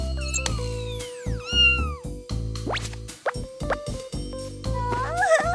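Cartoon cat meowing in an animated scene, several short wavering cries over a steady electronic tone and music, with plops and bright effects scattered throughout.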